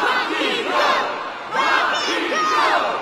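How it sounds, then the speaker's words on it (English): A boxing arena crowd roars and chants in surging waves, loud and massed, swelling twice with a brief dip between, no single voice standing out. "Listen to that, will you? The whole crowd's pulling for you."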